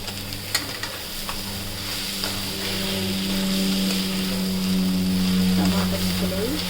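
Tomato pieces sizzle in a pan while a fish roe fry cooks, with a few sharp clinks and stirring taps at first. A steady frying hiss then swells and holds, close and moderately loud, under a low background hum.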